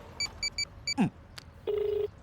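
Several short keypad tones tapped out in quick succession, followed by a brief click and a longer steady phone tone.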